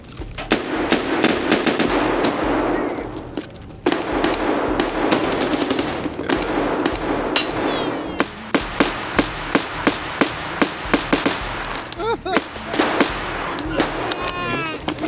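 Rapid automatic gunfire from a firefight in the video game Escape from Tarkov, dense bursts of shots crackling almost without pause, then sparser single cracks and short volleys toward the end, loud and close.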